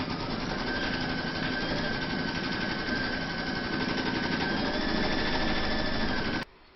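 An embroidery machine stitches the placement outline for an in-the-hoop coaster with a rapid, even mechanical chatter that holds steady and close, then stops abruptly near the end.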